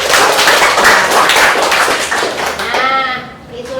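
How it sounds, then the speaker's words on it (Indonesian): Classroom applause for students' presentations, loud and close, with dense clapping from a group of students that fades near the end as a voice begins to speak. "Kita beri tepuk tangan dulu untuk semuanya."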